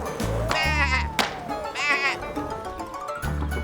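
Cartoon sheep bleat in a children's animated farm show set on a hillside where the sheep are skateboarding; several loud, wavering bleats come in separate bursts over a steady backing of music.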